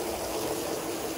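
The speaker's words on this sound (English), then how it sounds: "thoroughly rinse the side that you just scrubbed to remove all the remaining soap" A brief, steady rush of running water as a grill cover is rinsed to wash off leftover soap, moderately quiet and with no talking.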